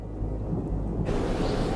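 Thunder rumbles loudly through a thunderstorm on a tropical island, a deep continuous roll that swells and brightens partway through, with rain hiss layered over it and no voices.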